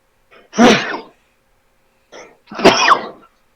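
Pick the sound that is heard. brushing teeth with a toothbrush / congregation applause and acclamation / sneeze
sneeze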